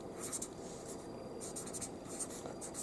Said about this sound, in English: So let me write that out for you.